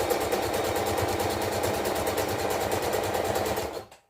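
A sewing machine stitches fabric in a fast, even, rhythmic chatter, close and loud, before stopping abruptly near the end.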